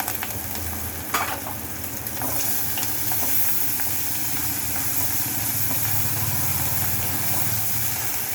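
Ginger and garlic sautéing in a little oil in a pan, a dense steady sizzle with a few scraping stirs early on and a low hum underneath, no talk.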